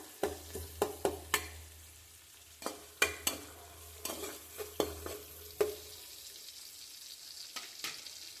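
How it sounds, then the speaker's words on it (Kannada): Tomato frying in a pan with no spices yet, stirred with a spatula in sharp, irregular scraping clicks over a faint, steady sizzle; close and fairly quiet, no talk. "ಒಂದು ಮೀಡಿಯಮ್ ಸೈಜ್ ಟೊಮೊಟೊ ಹಾಕಿ ಸ್ವಲ್ಪ ಚೆನ್ನಾಗಿ ಫ್ರೈ ಮಾಡ್ಕೊಳ್ತೀನಿ"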